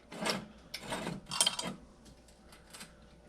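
A modified C-clamp is tightened onto turbo manifold collector piping, a few scraping, ratcheting metal turns in short bursts, close and moderately loud, then quieter fumbling.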